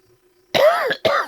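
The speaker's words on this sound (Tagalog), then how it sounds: "Ubo ko." A man coughs twice in quick succession close to the microphone, two harsh, throaty bursts breaking a near-silent background.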